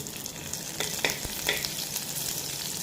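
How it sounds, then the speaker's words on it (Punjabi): Cumin seeds hit hot oil with a steady crackling sizzle, punctuated by a few sharper pops and spits. The frying is close and fairly quiet, with no voices. "ਤੇਲ ਦੇ ਗਰਮ ਹੋਣ ਤੇ ਇਹਦੇ ਵਿੱਚ ਪਾ ਦਵਾਂਗੇ ਆਪਾਂ ਜੀਰਾ"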